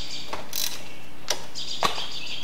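A ratchet with a 12 mm socket loosens a brake line bracket bolt on a Toyota Camry during a brake job, giving three short, close clicking bursts over a steady background hum.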